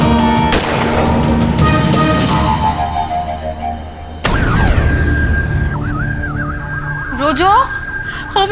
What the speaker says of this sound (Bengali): দিন রাত গুরুম গুরুম দুরুম দুরুম করে গুলি চালাচ্ছে